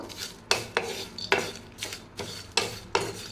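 Spices and curry leaves are stir-fried in a pan, heard as a regular series of about eight sharp scraping, clinking strokes of a utensil against the pan over a faint sizzle, close by and without talk.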